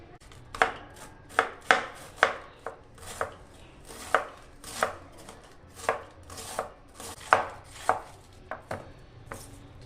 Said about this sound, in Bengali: এইভাবে আমি বাঁধাকপিটা ঝিরি ঝিরি করে কেটে নিচ্ছি